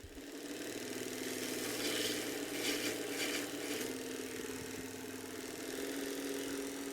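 A knife sharpening machine runs at raised speed, a steady mechanical hum with a constant whirring tone, loud and continuous throughout with a brief brighter grinding rasp in the middle.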